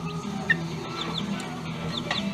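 Chicks in a small indoor playpen give soft, scattered high peeps and chirps over a low background murmur, close and fairly faint, with one sharper peep early on.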